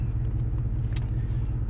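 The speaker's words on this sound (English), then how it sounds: "You can probably hear the exhaust leak that I've got going on." A car idles with an exhaust leak, a low, steady rumbling drone heard up close, with a faint brief tick near the middle and no talking.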